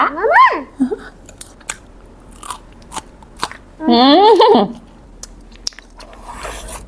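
Crunchy bites and chewing of Isan sausage sound close up, crisp and intermittent, with a voice making drawn-out sounds in between.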